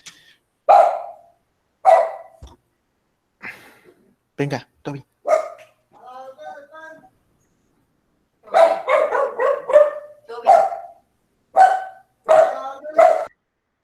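A dog barks in repeated bursts close by in a home, with a few short whimpers between, while a person speaks briefly to it.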